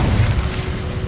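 Incendio fire spell blast cast in Hogwarts Legacy, a deep, rumbling whoosh of flame that fills the whole moment at steady loudness, heavy in the low end, with no voices over it.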